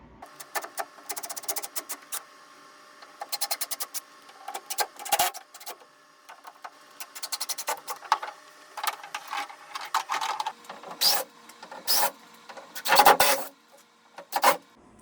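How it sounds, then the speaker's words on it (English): Robertson screws come out of the wooden outwales of a wood canvas canoe as a power driver whirs in short, repeated bursts, each a few seconds long, separated by near silence. "we're just going to get to taking out the Robertson screws"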